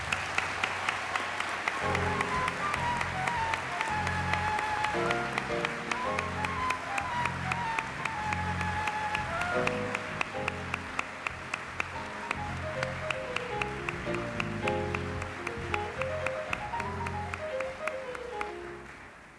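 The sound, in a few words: audience applause at awards ceremony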